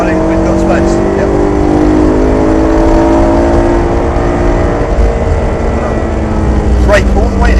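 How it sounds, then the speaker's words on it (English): A BMW M3 engine pulls hard under throttle while overtaking on a track, with a steady, loud droning roar whose pitch climbs gradually. Someone talks over it throughout. "Squeeze on the throttle, and we can overtake the car in front,"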